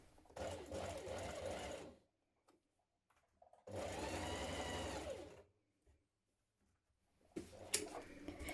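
A sewing machine basts a seam on a McCall's 7910 jumpsuit in three close bursts of fast whirring stitching separated by short silent pauses, heard alone.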